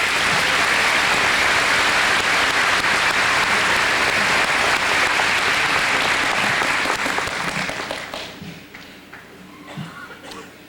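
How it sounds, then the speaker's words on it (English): A large audience applauds at a 2002 graduation ceremony with dense, loud, sustained clapping that holds steady for about seven seconds, then tapers off to scattered claps. "Let's give them a round of applause, please."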